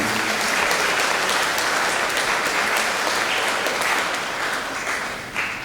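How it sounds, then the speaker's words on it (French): A congregation at a Mass applauds continuously, dense clapping holding steady before tapering slightly at the end. "applaudissez-la s'il vous plaît"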